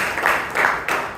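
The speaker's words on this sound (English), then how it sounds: "I think she deserves a round of applause" Meeting attendees at a Toastmasters club session in Bangalore clap together in a few loose, swelling bursts, moderately loud and close with no speech on top.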